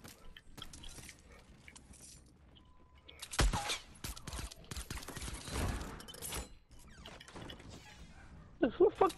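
Gunfire in the video game Fortnite comes in several sharp bursts, one near the start of the middle stretch, another later and a rapid cluster at the end, between quieter game noise and voices.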